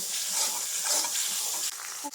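Spice masala for a Bengali egg bhuna fries in a pan with a steady close sizzle and soft scraping stirs, a brief dip near the end, and no talking.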